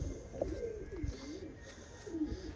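A teddy pigeon coos in short rolling phrases, near and fairly soft, with a few low pulses repeating across the moment and no talking.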